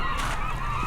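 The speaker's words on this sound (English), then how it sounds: "You probably can't hear me over the birds because they're just going crazy." Geese honking loudly and continuously on a Valdez beach strewn with dead fish near a salmon hatchery, a dense close chorus of overlapping calls with no pause.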